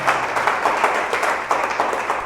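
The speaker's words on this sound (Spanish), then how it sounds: "Dale ese aplauso fuerte a Jesús." A church congregation claps loudly during a worship service. The applause is close and continuous, with a rhythmic pulse running through it.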